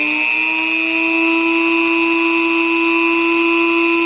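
A homemade arrow saw with a spinning cutoff wheel gives a steady, loud high whine with bright harmonic tones, running continuously and close without a break, with no voices over it.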